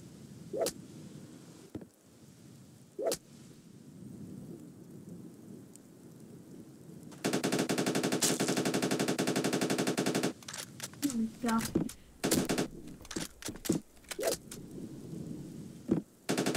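Weapons fire in the video game Banana Shooter: isolated sharp shots, then a sustained buzzing burst of rapid fire, followed by a scattered volley of shots and clattering impacts.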